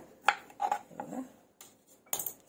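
A peeler scrapes the skin off a raw Totapuri mango in short, quiet strokes, each a brief rasp with small gaps between them.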